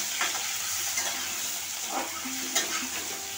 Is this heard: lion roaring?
no